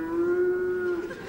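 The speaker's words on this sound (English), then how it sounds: "A cow." A cow gives a single long, steady moo at night, close and clear, ending after about a second.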